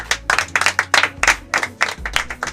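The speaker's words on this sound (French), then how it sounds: "on applaudit pour elle" A small group clapping for a woman at an art and culture event, loud close rhythmic handclaps in distinct bursts, fairly sparse and uneven.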